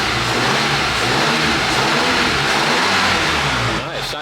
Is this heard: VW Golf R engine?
yes